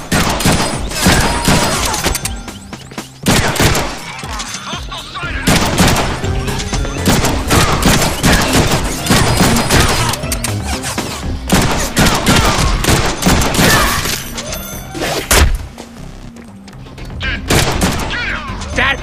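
Enemy gunfire in the Deadpool video game, dense bursts of rapid shots and volleys that crackle loudly and almost nonstop, with game voices shouting in between.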